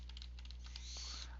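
Typing on a computer keyboard while working in a word processor, a quick run of soft, close key clicks over a steady low background hum.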